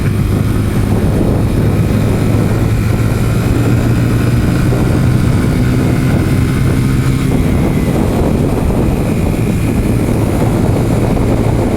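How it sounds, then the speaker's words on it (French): A small tractor's engine passing along a rural road, heard over the steady loud drone of a Mash 125 motorcycle engine and wind, a continuous rumbling with no talk. "Un petit tracteur."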